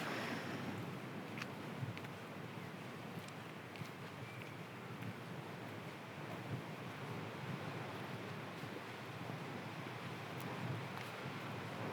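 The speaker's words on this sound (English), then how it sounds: "this is the end of the reservoir where the water spills out across the dam." Reservoir water spills out across a dam in a steady, rushing wash, with gusts of wind buffeting the microphone; the sound stays even and fairly quiet throughout.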